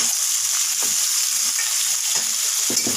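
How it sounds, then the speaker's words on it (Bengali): Potatoes fry lightly in oil in a pan after cumin, onion, garlic, tomato and green chilli have gone in, with a constant close hiss of sizzling oil and a few faint stirring scrapes. "হালকা ভেজে নেব"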